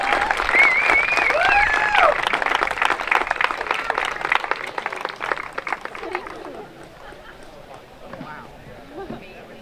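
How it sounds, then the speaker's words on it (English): A crowd at a Celtic festival opening ceremony claps and cheers loudly after an anthem, with whoops rising over the applause, which then thins into scattered claps and murmuring. "Let's give those ladies one more round of applause"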